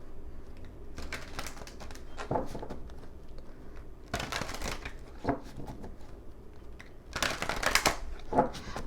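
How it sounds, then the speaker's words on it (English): Tarot cards being shuffled by hand in several crisp, riffling bursts separated by pauses, close and fairly quiet, with the last bursts the loudest. "Shuffle, shuffle."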